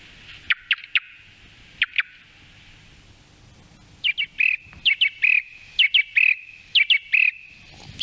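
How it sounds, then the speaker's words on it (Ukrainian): A played recording of a song thrush gives bright, sharp whistled notes, first in a few sparse pairs and then in quick repeated clusters, loud and clear against a quiet background with no talk. "Це звичайний птах, який є в будь-якому нашому парку, звичайний в лісах і так далі. Це дріст співочий."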